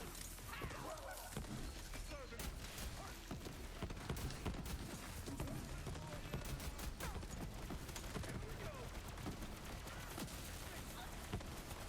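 Weapon fire and bomb blasts from a video game crackle in a dense, rapid stream of sharp bursts, fairly faint and continuous throughout.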